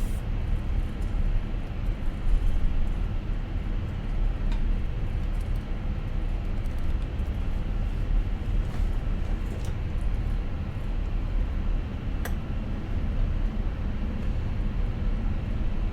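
Airbus A320 engines in Microsoft Flight Simulator 2024 spool up for takeoff from runway 03, a steady, loud broadband roar that holds evenly throughout, with no talk.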